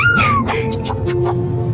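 A cat meows loudly and close by, a rising cry followed by a run of shorter, varied mews in quick succession, with a low background murmur beneath.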